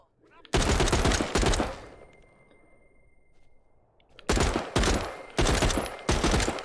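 Loud bursts of rapid gunfire from a gun in The Walking Dead: Saints and Sinners, the opening volley followed by a quiet pause and then three more sharp, close bursts.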